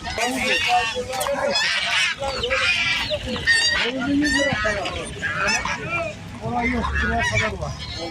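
Chickens and roosters honk and cackle continuously in a busy, close chorus at a poultry market in Çubuk, with people talking faintly among them.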